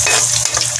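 Onions drop into a hot frying pan and sizzle loudly and close by, a bright continuous hiss with a little crackle for under a second.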